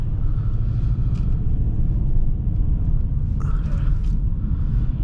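A 2005 Subaru Outback 2.5 XT drives under acceleration, its engine a steady deep rumble heard from inside the cabin, with continuous low road and engine drone and a couple of faint higher noises.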